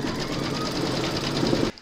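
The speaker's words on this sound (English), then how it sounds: "Pop your hoop into your machine and stitch round number" An embroidery machine stitches free-standing lace for a 3D poppy centrepiece, giving a steady, loud, rapid mechanical whirr with fine rhythmic needle pulses that stops abruptly near the end.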